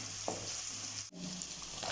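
Crushed garlic sautés in hot oil for a Pondicherry fish curry, a steady close sizzle with one brief dip.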